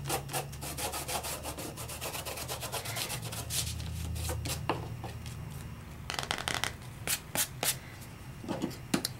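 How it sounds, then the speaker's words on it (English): A craft card with stamped and die-cut Brusho artwork gets a light burnish, heard as soft continuous rubbing strokes at close range followed by sharper intermittent rustles and taps. "I'm just going to give this a very light burnish"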